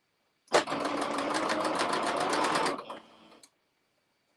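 Embroidery sewing machine running a straight stitch to attach fabric appliqué, a loud steady rapid needle rattle for about two seconds that slows and winds down before stopping.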